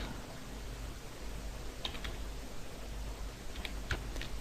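Computer keyboard typing while a word is entered into a form during a WordPress install on web hosting. A few scattered, sparse keystroke clicks sit over a steady low electrical hum.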